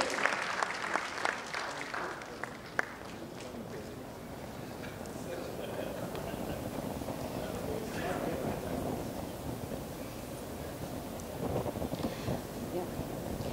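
A conference audience at a plenary session applauds steadily for the whole stretch, a dense wash of clapping with a few louder claps near the start, moderately distant.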